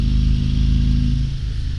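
A 2022 Harley-Davidson Road Glide Limited motorcycle engine rumbles steadily while riding, a deep, loud, continuous drone close by that eases slightly in the final half second.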